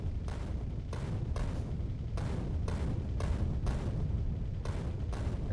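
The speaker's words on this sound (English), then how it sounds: "Look at me using grenades and everything." Grenades bursting in Factorio, a rapid string of dull thuds about every half second over a constant low rumble of factory and combat noise.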